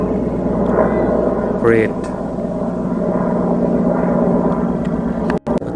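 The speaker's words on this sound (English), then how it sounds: "Chopper is flying away." Helicopter flying away outdoors, heard as a steady engine and rotor drone throughout that stays fairly loud and fades only slightly, with someone briefly speaking over it.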